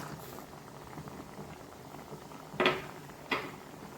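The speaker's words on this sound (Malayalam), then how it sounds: "നമ്മുടെ അരപ്പ് അതിലിരുന്ന് നല്ലോണം തിളച്ച് കുറുകി വരുന്നുണ്ട്" Ground coconut paste for erissery boils and thickens in a pot, giving a soft, steady bubbling simmer with two louder plops or bursts near the end, with no voices.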